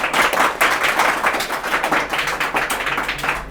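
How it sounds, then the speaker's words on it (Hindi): A classroom of students claps together, a dense, continuous patter of many hands at fairly close range that holds evenly throughout without pause. "वाह वाह ताली हो जाए एक बार।"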